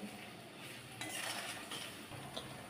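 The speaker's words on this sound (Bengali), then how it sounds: "এবার একটু নেড়ে চেড়ে নিতে হবে" A spatula scraping and clinking in a pan as turmeric, chilli, cumin and coriander powders with salt and sugar are stirred, a quiet, continuous close-up rasp with a few light metallic taps.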